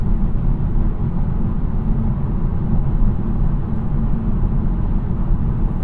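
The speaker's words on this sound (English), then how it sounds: "I'm going to just let y'all hear me driving in silence for like 5 seconds" Steady cabin road noise in a moving Acura Integra Type S, a constant low rumble and whir of tires and engine with no talking.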